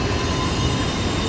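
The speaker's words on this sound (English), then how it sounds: "the noise we're hearing in the background is from the train passing by just outside the plaza here." A train rolls past just outside Dealey Plaza in Dallas, a loud, steady rumble of wheels on rails with a faint metallic squeal, close and continuous, with no speech.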